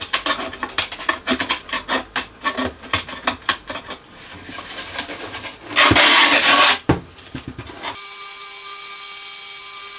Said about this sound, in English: When it's really stuck on, best to sand it off